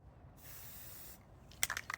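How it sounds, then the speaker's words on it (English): An aerosol can of primer paint sprays in a steady broadband hiss for about a second, then stops, followed by a few sharp clicking and rattling sounds close by. "look at this spray"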